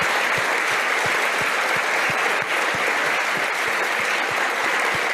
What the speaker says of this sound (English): please give a big applause to my good friend and brother, Professor Axel Priss, and his team.